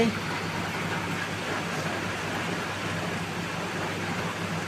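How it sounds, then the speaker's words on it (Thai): Rain falling outside, a steady even hiss of drops with a low hum underneath, unchanging throughout and without voices. "ฝนตกนะคะฝนตก"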